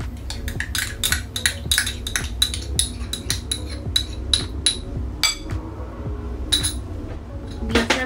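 Ingredients for a beef marinade of black pepper, chaat masala, ginger-garlic paste and raw papaya are stirred in a bowl, producing a rapid run of close, bright clinks and taps of a spoon against the dish.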